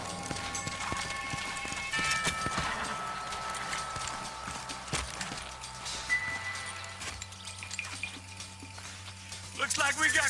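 Horses clip-clop steadily through a Red Dead Redemption outdoor scene, hooves thudding in a continuous rhythm at moderate distance under game ambience and occasional voices.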